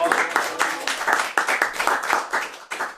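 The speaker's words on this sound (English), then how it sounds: "Give a round of applause for Paul." An audience at a cycling team's annual state-of-the-union event claps for a colleague, individual hand claps standing out in an uneven, close-sounding burst that thins toward the end.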